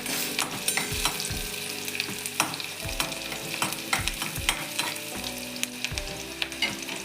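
Onion and ground spice paste frying in a pan for fish curry, a continuous crackling sizzle broken by regular knocks and scrapes of stirring, close and alone.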